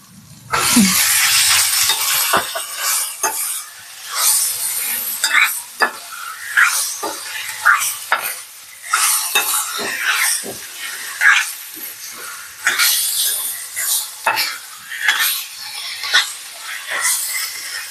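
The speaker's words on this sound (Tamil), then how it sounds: "இஞ்சி பூண்டு பேஸ்ட் போட்டு சும்மா ஒரு 1 minute இது வதக்கிட்டு" Ginger garlic paste sizzling and hissing in a hot pan, with repeated scraping and stirring strokes throughout, close and fairly loud.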